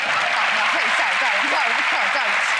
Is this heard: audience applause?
yes